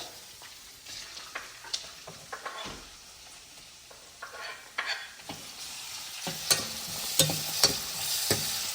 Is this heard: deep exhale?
no